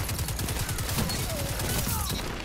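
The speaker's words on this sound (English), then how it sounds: "this auto rifle burns them down" An auto rifle in the Destiny 2 video game fires a rapid, steady burst of loud, close gunfire that runs without a break from start to end.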